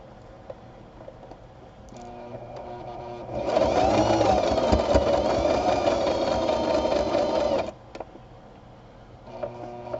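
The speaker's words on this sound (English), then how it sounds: "we're going to go ahead and sew just this strip right here" A sewing machine stitches a fabric face mask strip with elastic inside. It runs loud and steady for about four seconds, with quiet room sound before and after.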